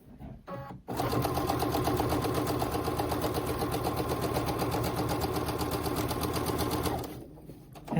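A sewing machine stitches a quilt four-patch block, starting after a brief pause and running in a steady, close rapid whir for about six seconds before slowing to a stop.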